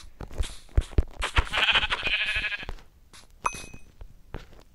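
Sheep bleat in the video game Minecraft, a black and a white sheep together, giving several loud, wavering bleats in quick succession over clicking game sounds, followed by a short bright chime.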